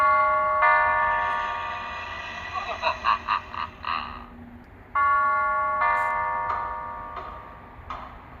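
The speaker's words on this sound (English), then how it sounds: "Someone's at the porch doorbell." Google Nest Doorbell playing its Halloween-themed chime: a loud, close electronic melody of ringing tones with a spooky, warbling middle section, sounding twice with a short pause between, no talk.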